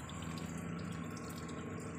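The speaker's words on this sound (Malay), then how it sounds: "Kita buang dulu coolant lama ni," Old coolant drains steadily from a Proton Savvy with a Renault 1.2 engine during a flush, a continuous close trickling and splashing of liquid that holds even and moderately loud for the whole stretch.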